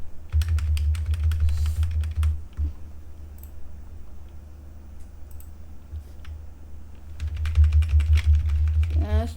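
Computer keyboard typing while writing Python code for a deep learning photo semantics project: two bursts of rapid, close clicking keystrokes separated by a quieter pause, with faint speech in the background.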